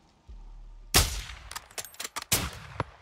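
Gunfire from the video game Call of Duty Modern Warfare 2: one loud, sharp shot with a reverberant tail, then a run of quicker, smaller cracks and clatters as the firing continues.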